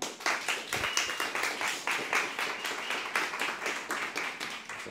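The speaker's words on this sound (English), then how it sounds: "can we give a massive round of applause" Audience applause greeting a podcast guest, a crowd clapping in a quick, steady patter that stays fairly faint and distant, continuous without talk over it.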